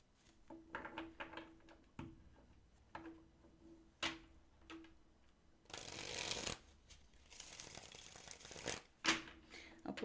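A deck of tarot cards is shuffled by hand at close range, with rapid riffling bursts and crisp snaps broken by short pauses, plus a longer dense flutter in the middle.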